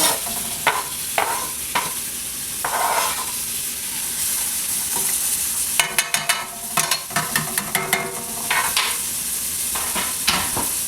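Onions sizzle in a soup pot as a wooden spoon stirs them, giving a steady frying hiss with scraping strokes and clustered clatters of the spoon against the pot.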